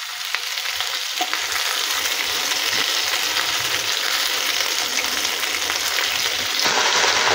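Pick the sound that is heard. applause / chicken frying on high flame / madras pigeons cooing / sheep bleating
chicken frying on high flame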